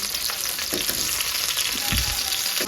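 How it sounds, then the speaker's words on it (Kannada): Mackerel coated in masala sizzles and fries on a tawa in coconut oil, a steady close crackle with occasional louder pops and spatters across the whole stretch. "ಈ ಫ್ರೈ ಆಗ್ತಾ ಇದೆ ನೋಡಿ ಗೈಸ್"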